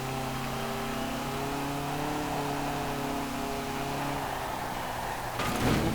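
Classic Fiat 124 Italian sports car in Forza Horizon 4, its engine holding a steady buzzing drone with subtle pitch shifts as it revs, ending in a brief rougher burst.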